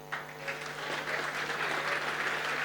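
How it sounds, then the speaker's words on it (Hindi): Sustained applause from an audience at a Tata Motors commercial vehicle unveiling and dealership award event, a steady dense clapping that holds at even strength throughout. "Bhandari ji के लिए तालियां हो जाए"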